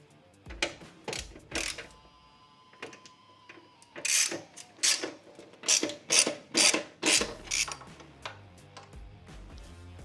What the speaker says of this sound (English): this cobalt ratchet doesn't sound right